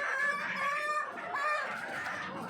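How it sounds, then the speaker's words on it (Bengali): Chickens on a farm, a flock numbering forty or fifty, cluck and crow close by in overlapping calls, with no talk. "এখানে আছে মুরগি,"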